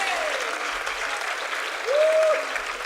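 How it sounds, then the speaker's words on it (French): Audience applause at a Laval arts recognition gala, a steady wash of clapping at moderate distance, with a brief voiced sound rising over it partway through. "on peut les applaudir, hein?"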